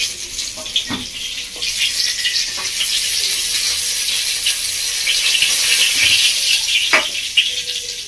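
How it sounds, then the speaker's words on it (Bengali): Eggplant slices frying in hot oil, a steady bright sizzle that runs throughout with a few soft clinks of a spatula, close and fairly loud. "এরকম আমরা বেগুনগুলো একটু ভালো করে ভেজে নিচ্ছি, একদম লাল লাল করে দিয়ে দিচ্ছি।"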